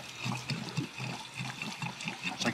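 Diesel fuel glugs and splashes as it is poured into a tank, a steady liquid gurgle with rhythmic low pulses, close and continuous without speech.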